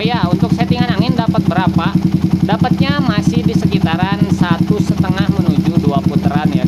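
A motorcycle engine fitted with a PE 24 carburetor idles steadily, a loud, close, even chugging pulse that runs throughout, with someone talking over it.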